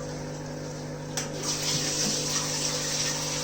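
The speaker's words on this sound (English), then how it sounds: "let's switch on the pump and see what happens." A discus aquarium's top sump filter pump rushes and gushes water steadily under a constant mechanical hum, growing slightly louder after a brief click.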